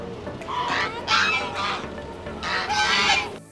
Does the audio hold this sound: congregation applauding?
no